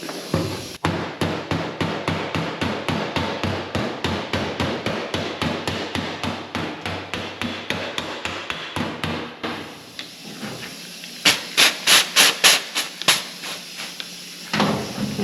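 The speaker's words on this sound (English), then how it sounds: "I'm going to hammer that one bullet hole." A hammer strikes a bullet hole in a car's metal body in fast, even, rapid blows, about three per second, loud and close, then a pause and a brief burst of sharper metallic taps.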